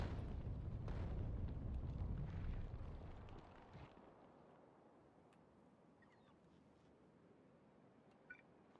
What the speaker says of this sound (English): Oh, they're firing some shots.